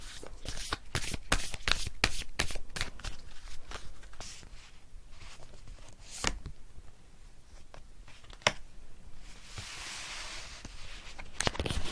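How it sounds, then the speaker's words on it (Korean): Tarot cards are shuffled in quick riffling bursts, then drawn and laid down with sharp individual snaps and soft slides, close and alone, with pauses between the movements. "그러면 이번 분들도 추가 카드를 뽑아볼게요."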